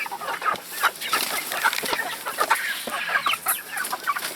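Black Copper Marans chickens cluck and squawk while being handled up close, a busy run of agitated calls over rustling and movement. No one speaks.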